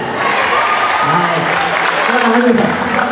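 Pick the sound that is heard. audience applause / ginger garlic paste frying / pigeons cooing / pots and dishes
audience applause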